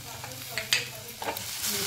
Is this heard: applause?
no